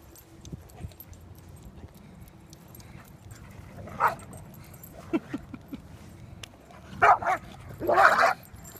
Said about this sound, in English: Walter doesn't know Dakota yet, so maybe they were playing a little too hard without him knowing him yet